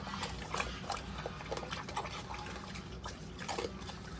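Phu Quoc wild pigs feed noisily, with wet, slurping chewing and snuffling that keeps on unbroken, close and fairly loud throughout.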